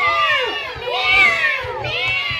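Several children in a classroom mimic a cat with their voices, overlapping meows that swoop up and down in pitch one after another, loud and close, with rowdy murmuring and shuffling underneath.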